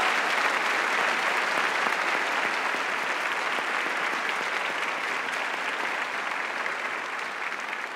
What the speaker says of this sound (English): I'd love to have a round of applause for all of these people who put this event together.